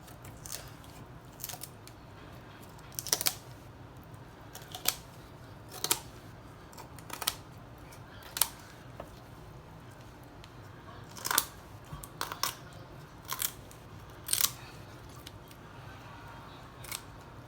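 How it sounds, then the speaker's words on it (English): Kitchen shears crunching through a chicken's backbone to spatchcock it, a series of sharp, close snips and cracks at irregular intervals over a quiet background. "And I'm just going to cut right along the left side and the right side"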